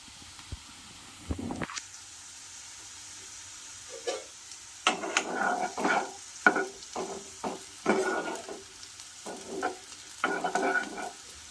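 Onions and green chillies fry in oil in a pan, heard up close as bursts of crackling sizzle with stirring in between. The bursts come in an irregular rhythm, with quieter pauses between them.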